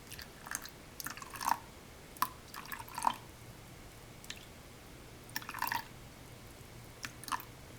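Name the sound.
adding water to a sourdough starter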